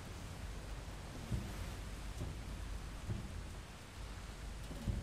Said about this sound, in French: la pluie qui arrive, la tempête